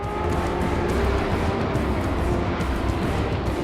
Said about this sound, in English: The GT40 is furiously fast.